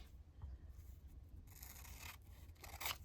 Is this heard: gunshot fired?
no